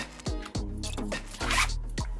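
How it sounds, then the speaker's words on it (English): Zipper on a red Waverly washcloth set being worked back onto its track after breaking, several short rasping zips in quick bursts, close and fairly loud, with no talk. "so the zipper just broke on it"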